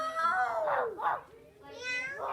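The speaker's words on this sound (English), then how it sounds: "All the cats and dogs were barking and meowing." Cats meowing as a storybook sound effect among a neighbourhood chorus of cats and dogs: a few close, drawn-out rising and falling meows in quick succession, clear and alone with no talk.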